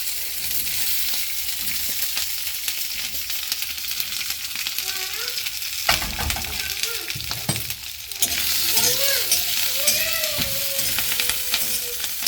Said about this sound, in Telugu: ఆ ఆయిల్లో పచ్చిమిర్చి వేస్తున్నాను